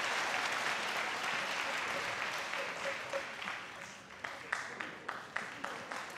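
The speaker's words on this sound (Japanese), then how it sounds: "観客の拍手です。" Crowd applause at a pro wrestling show fills the arena in a steady wash, thinning toward the end into scattered, distinct claps.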